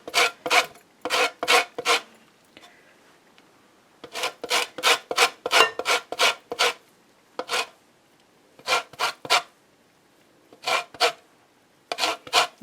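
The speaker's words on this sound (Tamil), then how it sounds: "இந்த ஆரஞ்சுன்ற இது தோல் வந்து நான் கொஞ்சம் கிரேட் பண்ணி போட போகிறேன்" Orange peel being grated for a carrot cake, bursts of short rasping strokes in quick rhythmic clusters separated by brief pauses, close and crisp with no talking.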